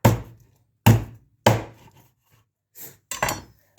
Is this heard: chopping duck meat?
yes